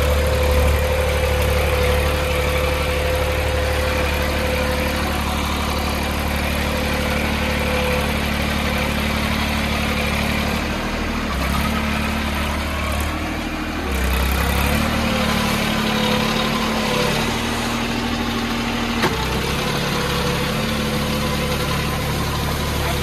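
A tractor ploughing a field in high gear runs with a continuous heavy engine drone, loud and near, its pitch shifting slightly now and then over the whole stretch.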